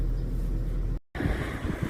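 Cold wind at about 0 degrees buffets a microphone in an open field with low rumbling gusts, cut by a brief moment of silence before the blustery noise returns.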